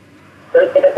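A telephone line on a live call-in radio show rings once, a short burst of electronic ringing tones that starts abruptly after near silence.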